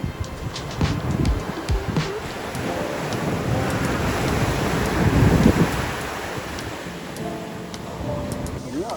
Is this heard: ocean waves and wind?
yes